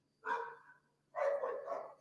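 Dogs next door bark in two bursts, a short single bark followed by a longer run of barking, moderately loud against a quiet background.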